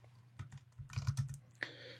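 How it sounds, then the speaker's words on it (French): Several quick keystrokes tapped on a computer keyboard, clustered in a short burst with a brief pause, close and fairly quiet with no talk. "je vais taper chapelle. Voilà, petite erreur avec mon clavier"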